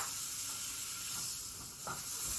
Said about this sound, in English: I'm going to add the butter